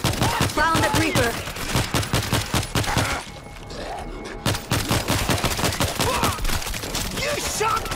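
Rapid, dense gunfire in the video game World War Z, with crackling shots volleying almost continuously and a brief lull partway through.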